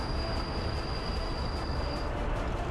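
A construction train in Workers & Resources: Soviet Republic rumbles along the track in a steady, fairly faint roll, with a thin high squeal sounding above it for a couple of seconds.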